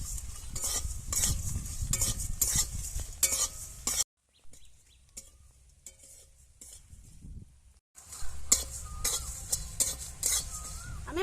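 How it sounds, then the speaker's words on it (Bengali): Dried red chillies and coriander seeds are dry-roasted in an empty wok, giving close, loud rattling and scraping as they are stirred. A quieter pause falls midway before the stirring resumes. "শুকনো লঙ্কা ধনে সব ভেজে নেব শুকনো কড়ায় আমি শুকনো খলায় ভেজে নিচ্ছি আমি"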